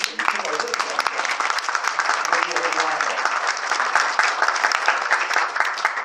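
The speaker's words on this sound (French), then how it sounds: "Vous pouvez l'applaudir." Audience applause at a mayor's New Year address in Ferrière-Larçon, dense steady clapping from a seated crowd, fairly close and loud, with some voices murmuring underneath throughout.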